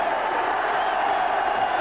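Sustained crowd applause and cheering at Plough Lane football ground during a 1988 FA Cup quarter-final between Wimbledon and Watford, a dense, steady roar of many distant spectators filling the whole moment without a break.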